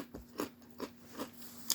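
Crunching of plant-based protein snack chips, four evenly spaced crisp bites heard close and quiet over a soft steady hum.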